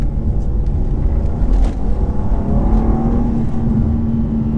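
BMW M2 engine pulls hard under acceleration on a road drive, a steady low rumble and drone heard from inside the cabin, fairly loud and continuous with no talking.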